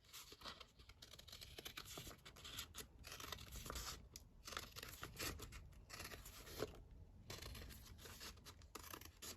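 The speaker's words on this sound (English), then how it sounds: "trim this down here on the edge." Paper edge being trimmed for a folio: close, quiet snipping and crisp paper rustling in irregular bursts, with brief pauses between cuts.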